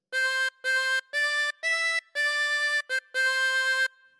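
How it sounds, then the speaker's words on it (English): Harmonica playing a short melodic phrase of Ode to Joy, seven clear sustained notes with brief gaps between them and one quick short note near the end, close and alone. "Practice this until you end up with something that sounds like this."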